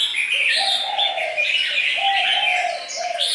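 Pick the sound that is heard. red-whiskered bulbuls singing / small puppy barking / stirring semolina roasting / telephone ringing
red-whiskered bulbuls singing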